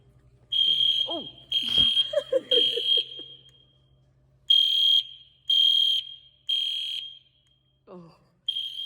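A church fire alarm sounds in loud repeated electronic buzzing bursts with short gaps, while people talk and exclaim nearby between and over the blasts.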